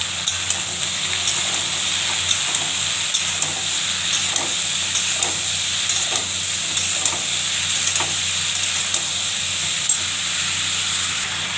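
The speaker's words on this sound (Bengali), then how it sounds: "এবার ভালো করে নাড়বো।" Cabbage curry with peas, salt and turmeric sizzling and hissing steadily in a pan, with faint regular scrapes of a spoon stirring through it, no voices over the frying.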